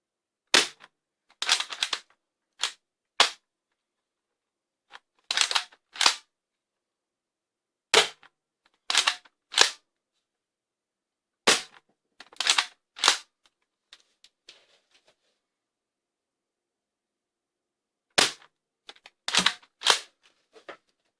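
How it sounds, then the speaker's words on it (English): A Nerf Pro Gelfire Ghost gel blaster fires sharp, close snapping shots in short bursts of two to four, separated by pauses and near silence. "Chronograph test for this Nerf Pro Gelfire Ghost. Hopefully it's gonna perform."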